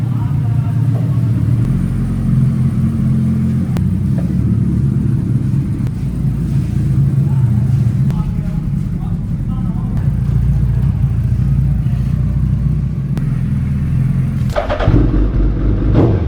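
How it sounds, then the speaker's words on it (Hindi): A Suzuki Hayabusa motorcycle engine running steadily at a close, loud idle with a constant low rumble throughout, and a short disturbance near the end. "अपन ने बाइक वाइक स्टार्ट कर ली है"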